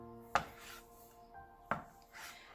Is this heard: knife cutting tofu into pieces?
yes